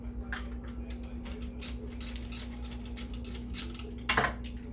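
A handheld garlic mincer gadget crushing peeled garlic cloves gives a run of quick clicky, ratcheting crunches over a steady low hum, ending in a louder burst near the end.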